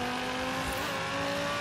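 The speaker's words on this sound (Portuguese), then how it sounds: "Olha o barulho do carro, se liga só." A steady, high-pitched engine drone of a racing car in the video game Forza Horizon 3 holding at speed, loud and continuous with no pauses.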